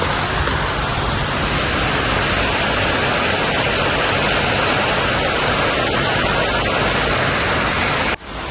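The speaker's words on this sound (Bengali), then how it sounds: "মুষলধারে বৃষ্টি হচ্ছে" Heavy rain pours down during a Kalbaishakhi storm, a loud, dense and unbroken roar of water heard close by that continues evenly before a brief break near the end.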